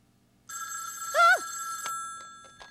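A telephone rings indoors with one steady electronic trill, a brief warbling burst in the middle, then fading tones, close and fairly loud with no one talking.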